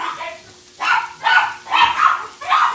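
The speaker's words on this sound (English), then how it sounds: "Dog crazy mania." A dog barks in the house, likely at someone walking past outside, letting out four loud, close barks in an uneven rhythm.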